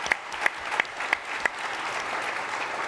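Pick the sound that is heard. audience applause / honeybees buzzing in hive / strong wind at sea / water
audience applause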